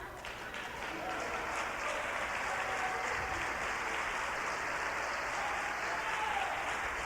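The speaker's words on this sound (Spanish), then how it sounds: "Un aplauso fuerte, hermano." Church congregation applauds during a sermon, a steady, continuous wash of clapping that swells in after a moment and holds evenly, somewhat distant and soft, with no talk over it.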